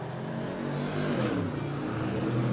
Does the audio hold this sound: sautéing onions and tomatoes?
no